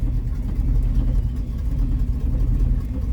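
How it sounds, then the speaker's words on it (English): Exhaust on an X-frame truck, piped tightly through the frame, rattles against the metal under a steady, loud low engine rumble that runs continuously without pause. "That rattling is the exhaust in the frame."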